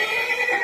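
A mare gives a brief, close, loud neigh, a shrill, wavering whinny that fills the short moment on its own.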